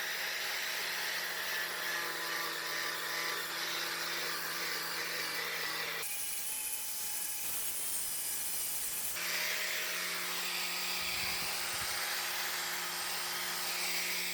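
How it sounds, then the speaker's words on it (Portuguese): Power sander fitted with a flap disc grinding across an old restaurant chair, a steady continuous whir with a brighter, harsher stretch of abrasive contact in the middle, close up and loud with no talking. "Então eu vou passar o flap aqui só para demonstrar como que fica e para ter uma noção, né, da velocidade que ele faz"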